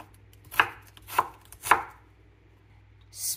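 A medium-sized onion chopped with a knife on a board, three sharp separate knocks at an even pace, close and clear over quiet background, then a brief rustle at the end.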